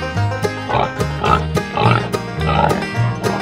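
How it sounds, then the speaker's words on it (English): Cartoonish pig oinks repeat in a bouncy rhythm over playful music, close and loud, in a rhythm that fits a children's animal-sound song. "Pig."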